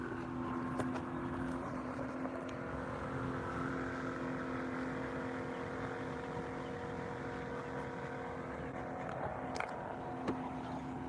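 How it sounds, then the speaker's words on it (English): A yacht club marina launch motors past at a distance, its outboard drone steady and low under faint outdoor ambience, with no voices. "That's one of the yacht club launches, one of the marina launches over here."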